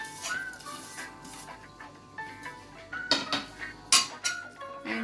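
Grated jaggery, raw mango and coconut are stirred in a pan for a chutney, with a spoon scraping and clinking against metal in scattered strokes that grow louder toward the end.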